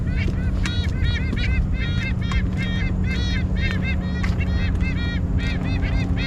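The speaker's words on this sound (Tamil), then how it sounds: "பறக்கிறவங்க தான் கத்திட்டு பறக்குறாங்க" Wild birds call loudly as they fly over a nature park trail, a dense run of repeated goose-like honks over a steady background rumble.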